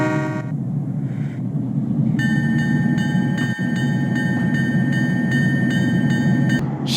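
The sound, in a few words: train engine rolling out of the shed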